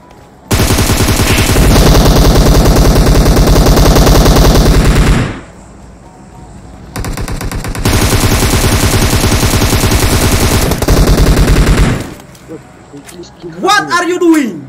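Machine gun fire in a video game: two long, loud, sustained automatic bursts separated by a short pause, followed by a brief excited voice at the end.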